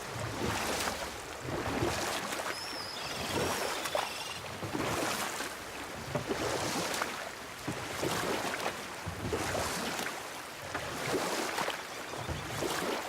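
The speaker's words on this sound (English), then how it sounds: "Keep rowing towards the statues of the oarsmen, then thread past between them." Oars rowing a boat across water in the game God of War, rhythmic splashing strokes repeating about every two seconds over a soft watery wash, steady and moderately quiet.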